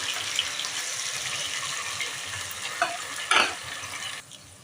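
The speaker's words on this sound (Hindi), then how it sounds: "तो टमाटर शामिल करने के बाद हम इसको मिक्स करेंगे" Chopped tomatoes and green chillies being stirred into dal mash in a hot pan, a steady frying sizzle with a few scraping spoon clatters over it.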